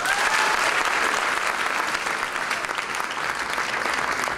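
A lecture audience breaks into sustained, loud applause, steady dense clapping from a close crowd for about four seconds as speaker Arthur Keller is welcomed.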